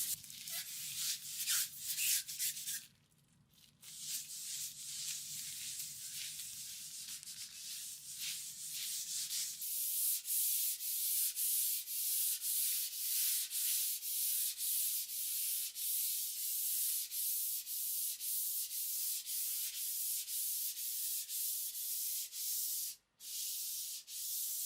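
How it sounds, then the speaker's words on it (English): Light hand sanding of a painted dresser between coats of paint, a steady, close, rhythmic rasp of strokes with brief pauses, a low hum early on that drops away partway through. "I gave it a very light sanding and prepped it for the second coat."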